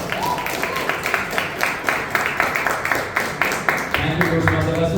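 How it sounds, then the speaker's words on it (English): An audience at a Toastmasters anniversary meeting gives a big round of applause as a speaker takes the stage, with rhythmic clapping that ends as a voice begins talking near the end. "Give a big round of applause"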